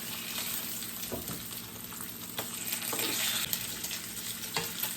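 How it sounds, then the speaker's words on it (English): Thick-sliced bacon fries in a pan over medium-high heat, giving a continuous close crackling sizzle with sharp pops scattered through it and no one speaking. "I'm gonna put this bacon. It's popping me in the face."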